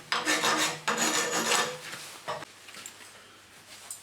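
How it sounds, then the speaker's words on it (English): Burrs are filed off freshly cut metal by hand in a few quick rasping strokes, close and fairly quiet, followed by a short scrape and then near silence. "We're now just going to remove any burrs."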